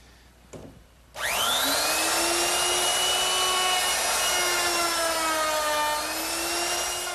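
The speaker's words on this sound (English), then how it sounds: "I'm ready to round over the edges on my top. And for that, I'm going to use a 1/2 inch rounding over bit" A router fitted with a 1/2 inch round-over bit starts up with a sharp rising whine and then runs at a steady high-pitched roar, rounding the edges of a trestle tabletop, with slight pitch dips as it cuts.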